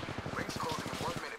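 Rapid, steady automatic gunfire from an Apex Legends match, pulsing fast and evenly beneath a voice talking over it throughout.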